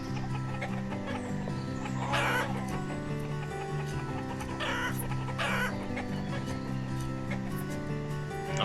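Chickens cluck in the city-building game Banished, a run of clucks over a steady tonal backdrop, with no one talking.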